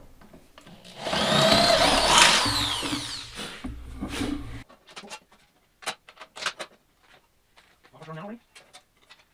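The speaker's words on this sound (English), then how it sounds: "This other drill bit, which isn't the greatest drill bit, but since I've already drilled the pilot hole" A power drill whines loudly for about four and a half seconds as it bores into metal, widening a pilot hole for an aluminum racing seat, then stops and a person talks.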